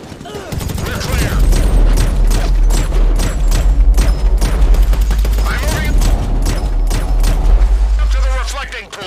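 Heavy gunfire from a sniper ambush in a GTA 5 mission, a dense barrage of loud shots with deep booming rumble throughout, voices shouting over the din.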